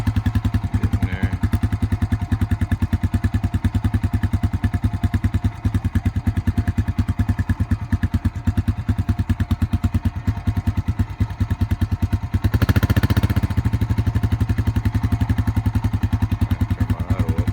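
Small engine idling steadily while running on a supercapacitor replacing its battery, a fast even putter that holds for the whole stretch and swells slightly louder near the end as the idle is turned up.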